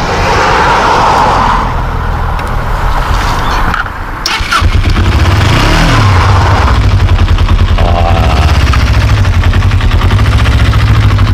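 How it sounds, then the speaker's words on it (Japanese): A circa-1985 Kawasaki GPZ250R motorcycle engine cranks and fires after a brief dip, then settles into a loud, steady close-range idle with a fast throbbing pulse. "エンジンかけてみてもらってよろしいですか"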